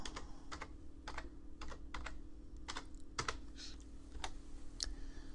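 Keys clatter on a computer keyboard as a database name is typed into chess database software, in close, quiet, irregular bursts of individual keystrokes with no talking.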